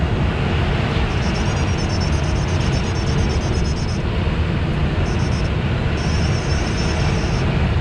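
A small airplane engine drones steadily in flight, a loud, unbroken roar heard from inside the cabin, with faint wavering tones riding above it.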